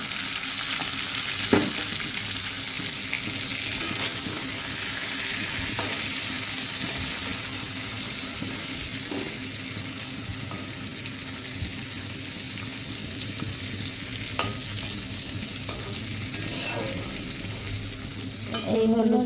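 Turmeric stirred into hot oil for a papaya dish, an even, continuous sizzle with faint spatula scrapes now and then, close and steady for the whole stretch.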